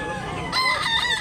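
A rooster crows loudly and close by at a chicken farm in Barili, Cebu, over a steady outdoor background.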